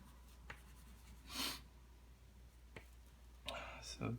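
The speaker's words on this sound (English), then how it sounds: "I'm drawing very light on some of my succulents" A pencil drawing lightly on paper while sketching succulents in a still life, with faint scratchy strokes in a few short bursts and soft clicks between them.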